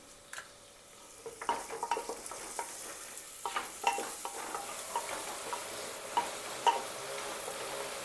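Onion frying with turmeric after whole spices for mutton kheema, a quiet close sizzle punctuated by repeated spatula scrapes and taps as it is stirred.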